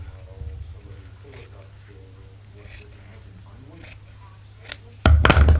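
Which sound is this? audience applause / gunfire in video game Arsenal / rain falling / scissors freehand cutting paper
scissors freehand cutting paper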